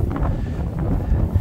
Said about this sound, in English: Sorry about the wind. It's nasty out today.